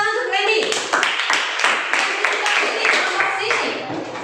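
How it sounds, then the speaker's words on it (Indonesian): A small group, likely children, claps briskly in a quick irregular patter for a few seconds, with voices talking over the clapping. "Ya, tepuk tangan untuk Randy."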